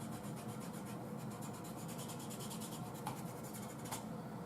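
Concealed carry gun holster rubbing, a quiet, continuous scratchy rasp of material against material with a couple of slightly sharper scuffs, close and faint, no talking.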